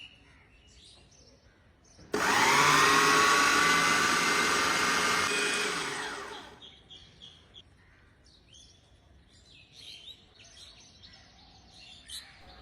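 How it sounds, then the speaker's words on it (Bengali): An electric chopper grinds oats into powder with a loud, steady motorized whir that starts abruptly, holds for about four seconds, then winds down and stops, leaving quiet room noise. "এখন ওটস গুঁড়া করব। এর জন্য আমি চপার ইউজ করছি"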